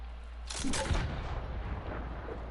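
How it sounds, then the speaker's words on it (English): A gun fired into the air in first-person Fortnite, a single loud burst of gunfire about half a second in, followed by a fading rumbling tail. "I think I'm just gonna shoot some in the air"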